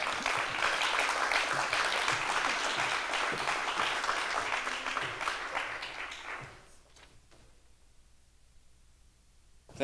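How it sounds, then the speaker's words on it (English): An audience claps steadily for about six seconds to welcome a speaker from the Newark History Society coming up to the stage at NJPAC. The applause then thins out into a quiet room, followed by a sudden loud bump right at the end. "Can we just give him a hand clap as he comes up?"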